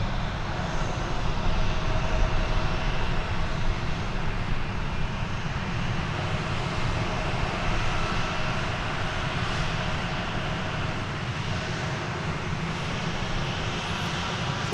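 An American Airlines jet lands at DFW Airport, its engines a broad, steady roar that holds loud and even throughout, with no talking.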